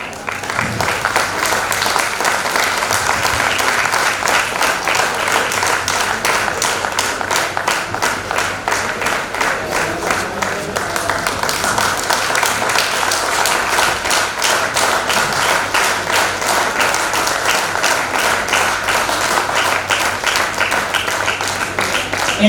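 Seminar audience in Jalandhar clapping hard and steadily for company directors, a dense, loud, continuous applause that holds through the whole stretch with a faint voice underneath.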